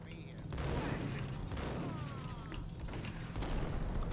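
Sustained gunfire in the shooter game Max Payne forms a steady, busy wash of shots and action noise from start to finish, with faint voices mixed in.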